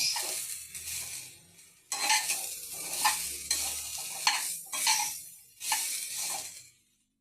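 Grated coconut frying in a wok for village-style coconut sweets, stirred with a utensil in repeated scraping strokes over a steady close sizzle, with brief pauses between strokes and no talking.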